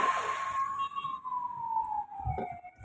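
A siren sweeps past on a road in one long, gliding wail that slowly falls in pitch as it moves away. It stays fairly faint and is heard from inside a car.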